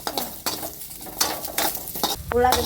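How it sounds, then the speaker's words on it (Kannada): Onions sizzling in hot oil in a pan while a spoon stirs and scrapes them, with a steady crackling fry and several sharp metal scrapes and knocks up close. "ಸ್ವಲ್ಪ ಎಣ್ಣೆ ಹಾಕ್ತೀನಿ. ಅದಕ್ಕೂ ಚಂದ ಕೆಂಪಾಲಿ ಉಳ್ಳಾಗಡ್ಡಿ"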